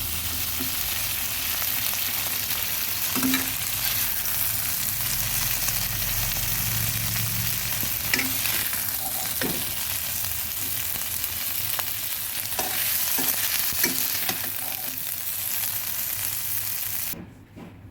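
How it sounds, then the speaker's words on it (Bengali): Continuous loud sizzling and crackling of shrimp frying in a pan, with occasional clinks, ending abruptly near the end. "খুব একটা কড়া ভাজবে না চিংড়ি মাছগুলো হালকা করে ভেজে নিলাম"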